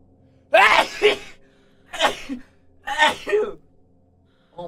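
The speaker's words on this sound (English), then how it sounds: "Oh my god, I haven't sneezed in so long." Three sharp sneezes burst out close and loud about a second apart, each with a quick inhale and a trailing gasp, with a faint start of a fourth at the very end.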